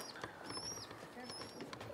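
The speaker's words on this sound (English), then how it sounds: "That baby's chirping away, as you can see, it's hungry." A newly hatched eaglet chirps in its nest, giving thin high-pitched peeps in short repeated bursts against faint background noise and low voices.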